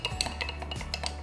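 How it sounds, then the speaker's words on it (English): A spoon stirs vegan chia seed pudding inside a jar, giving a quick run of light clinks and scrapes against the glass, close and alone with no talk. "So it's time to give it that second stir and mix it all about."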